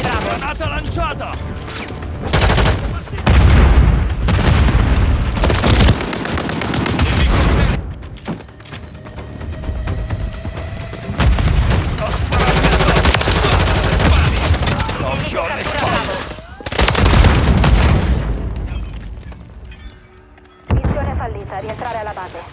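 Call of Duty match with bursts of rapid gunfire and booming grenade explosions, loud and repeated in clusters with short gaps, and in-game voices calling out in Italian.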